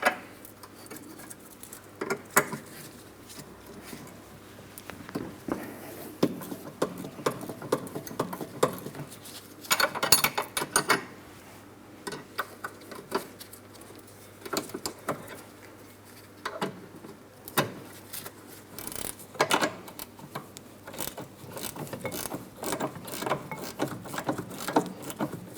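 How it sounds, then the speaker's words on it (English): A ratcheting 15mm wrench working a sway bar link nut on a 2003-2007 Cadillac CTS rear suspension, quick soft clicking bursts with pauses and occasional metal taps, close and fairly quiet. "I'll be switching to a ratcheting 15mm wrench"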